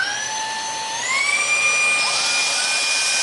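Wyze handheld vacuum running on high power, a steady high-pitched motor whine that rises in pitch as it spins up, then holds as a continuous close, loud whir with no talking.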